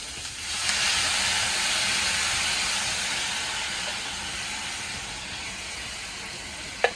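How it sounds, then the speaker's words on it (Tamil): Tamarind water poured into a pan of sautéed onions sets off a loud broad hiss that swells and fades slowly over several seconds, ending with a brief clink. "நல்லா வதங்கினதுக்கப்புறம் புளி தான் முதல்ல ஊற்றணும்"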